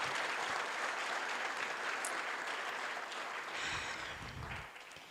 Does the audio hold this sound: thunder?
no